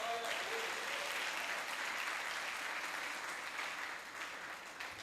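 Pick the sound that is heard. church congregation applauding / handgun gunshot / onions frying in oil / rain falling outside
church congregation applauding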